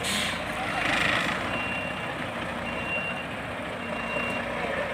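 Trailer truck reversing into a narrow alley, its reversing beeper sounding repeatedly over a low diesel rumble, close and loud, with a voice talking over it.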